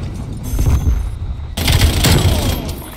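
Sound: Semtex grenade thrown and exploding in Black Ops Cold War video game

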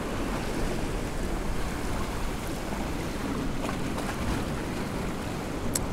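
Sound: ocean waves at Marine Drive shore

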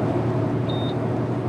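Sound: toll gate beep signalling toll payment

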